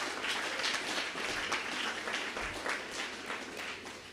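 An audience at a church youth seminar claps steadily through the whole stretch, a dense, even patter of many hands heard from some distance at a fairly soft level.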